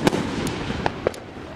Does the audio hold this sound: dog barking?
no